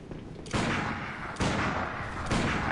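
Player's gun firing in the Bloodborne game: three heavy gunshot blasts spaced about a second apart, each with a sharp attack and a booming tail, over a noisy game background.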